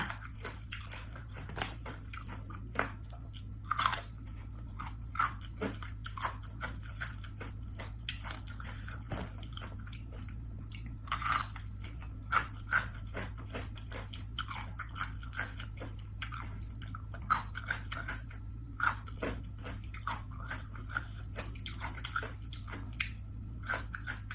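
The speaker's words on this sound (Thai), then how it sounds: "มากินกระเทียม คือเด็ดไปกว่านั้น" Garlic being eaten at a mukbang with fermented fish sauce dip and chili paste, giving repeated close crunchy bites and wet chewing over a steady low hum, no talk.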